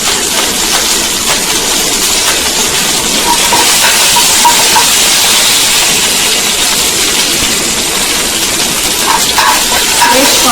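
Curry leaves tempering in hot oil for a Dussehra festival offering, giving a loud, steady, broadband sizzle and hiss that crackles continuously for about ten seconds, close up and uninterrupted.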